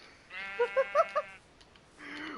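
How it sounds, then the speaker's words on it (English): A pink sheep in a Minecraft-style game where diamonds are being found lets out a single close, wavering bleat with a fast quaver, followed by brief quiet and then a faint noisy rustle. "A pink sheep! A pink sheep!"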